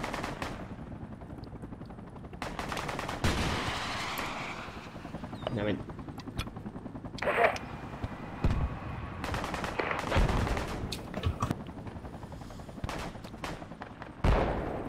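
Gunfire in the military shooter game Project Reality: scattered single shots and sharp bursts ring out amid a rumbling vehicle or helicopter drone, while players talk over the action.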